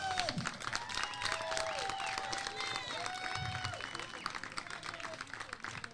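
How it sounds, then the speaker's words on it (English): A crowd claps and cheers at a girls' Little League regional championship game in Bristol, Connecticut, sustained applause with scattered shouts and chatter throughout. "Nice round of applause for Rhode Island."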